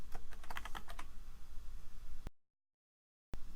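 Keys on a computer keyboard clatter in a quick burst of clicks during data entry in a web client, then the tapping stops and the clip falls briefly silent before ending.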